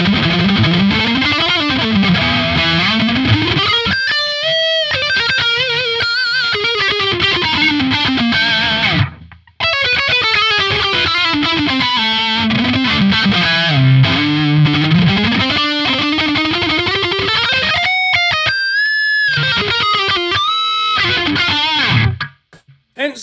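A Grassroots Les Paul-style electric guitar on its neck pickup plays a heavily distorted lead line through effects, with sustained bending notes and quick runs, loud and continuous apart from two short breaks.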